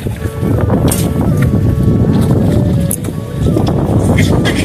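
Strong wind blows at a river beach with waves, a steady loud roar and buffeting across the microphone that nearly covers everything else.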